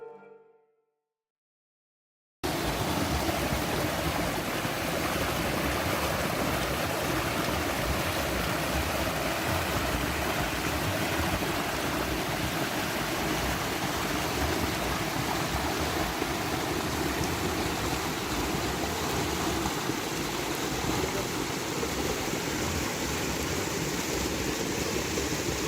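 Hot spring water pouring over the travertine terraces of Pamukkale, a dense, steady rushing wash that starts after a short silence and stays loud and unbroken to the end.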